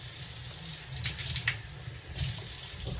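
Water runs steadily from a kitchen tap, a continuous close hiss and splash as it is added to two eggs, with no talking.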